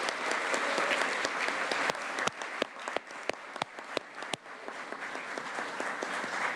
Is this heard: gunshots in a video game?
no